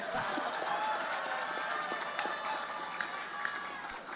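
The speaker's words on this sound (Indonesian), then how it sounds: "Ayo yang belakang tuh tepuk tangan yang keras." Crowd applause at a political party gathering with a mix of claps and crowd murmur, fairly steady and tapering slightly toward the end.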